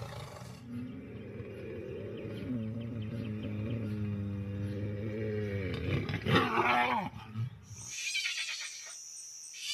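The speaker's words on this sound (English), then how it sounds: "The roar." Big cat roaring, a long, deep, harmonic roar that swells and breaks into grunting at the end, close and powerful, followed by a sharper, higher cry.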